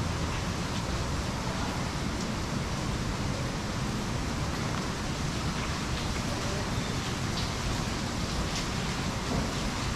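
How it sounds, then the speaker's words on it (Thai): Steady rain pours down at a hotel in Khao Lak, a dense, unbroken hiss that stays even and loud throughout with no voices. "ฝนตก"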